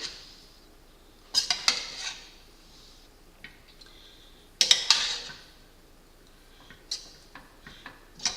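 Ground meat and roasted chilies being stirred in a pot for a beanless competition game-day chili, heard as scattered bursts of utensil scraping and clinks against the pot, with quiet pauses between strokes.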